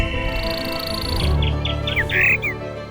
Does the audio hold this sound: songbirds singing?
yes